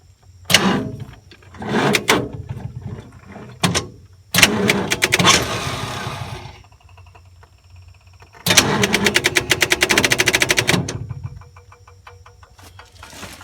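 A Ford 460 V8 engine with a weak battery cranks in sluggish bursts, stopping and retrying several times, with clicks and pauses between attempts, never catching.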